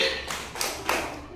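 Children in a classroom doing the tepuk padi clapping game, three distinct claps or taps spaced evenly in a short rhythmic pattern, close and moderately loud.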